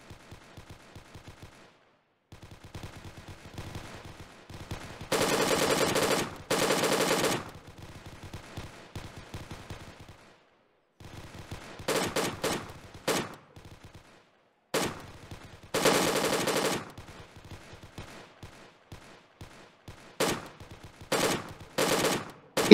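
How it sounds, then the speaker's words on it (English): Bursts of automatic gunfire aimed at a town building during a Marine Corps force-on-force military exercise, loud sustained volleys separated by pauses, with shorter bursts trailing toward the end. "At least two contacts. Just keep fire up on that, guys."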